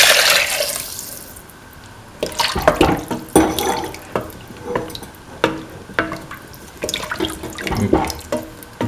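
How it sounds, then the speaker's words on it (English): Water pours and splashes into a pot for cooking rice, an uneven run of nearby gurgles and spatters with a few louder sloshes, close up and no voices. "pour in 250 ml of water"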